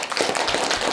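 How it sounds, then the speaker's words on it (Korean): A brief burst of dense audience clapping fills a health lecture hall, loud and continuous for under a second. "박수 한번 치세요"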